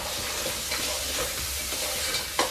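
Crab goes into a pan of translucent onions frying on the stove, giving a steady close sizzle with a brief clatter near the end.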